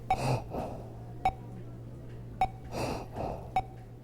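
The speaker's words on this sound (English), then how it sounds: "That's some pretty rough breathing." Rough, labored breathing effect in a hospital video game: slow, ragged breaths heard close and fairly quiet, repeated several times, with a short sharp click or beep recurring about every second and a low steady hum beneath.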